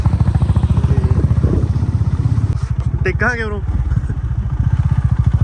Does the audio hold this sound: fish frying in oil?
no